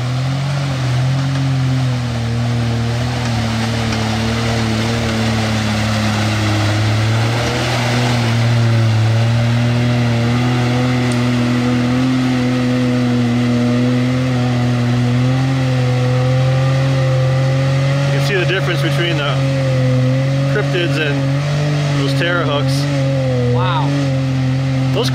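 Side-by-side UTVs, Pro XP and Maverick X3, rev off-road on Drummond Island, a loud steady engine drone that swells and holds, with voices talking over it.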